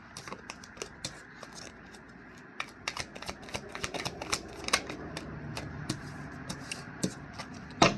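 Tarot cards being shuffled and flipped, a dense run of quick papery riffles and flicks at close range with sharper slaps toward the end, steady soft texture throughout.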